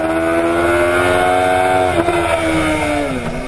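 Kawasaki Ninja ZX-10R endurance-racing motorcycle on a circuit, engine droning loud and close at steady high revs with rising and falling harmonic pitch, briefly dipping near the end; no talking.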